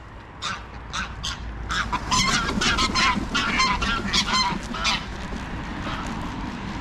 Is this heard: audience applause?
no